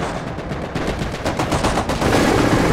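Machine gun fire rattles in Company of Heroes, a loud, rapid, continuous burst of close gunfire with overlapping shots and a rumbling battle backdrop.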